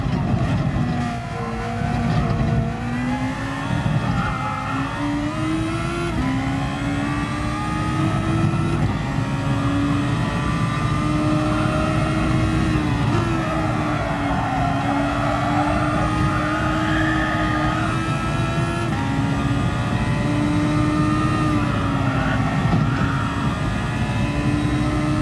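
Race car engine in GT Sport, an underpowered car compared with a Group 1 racer, droning steadily throughout with rising and falling pitch as it accelerates and shifts, loud and continuous with no talking.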